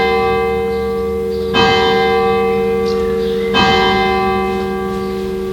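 The renovated church bell of Villiers-sur-Loir rings out loud and close, two strikes about two seconds apart, each leaving a long, humming, harmonic-rich decay that never fully fades between blows.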